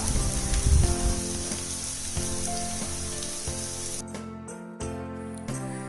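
Drumstick thoran with salt and curry leaves is stirred in a pan, a steady close sizzle with scraping and rubbing textures over the first four seconds, then quieter stirring with brief pauses near the end.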